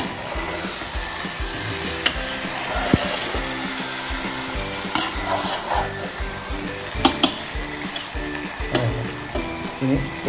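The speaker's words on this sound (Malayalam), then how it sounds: "ഒന്ന് ഇളക്കാം." Fish curry frying in a pan on the stove, stirred with steady scraping and clatter over a continuous sizzle, close and moderately loud throughout.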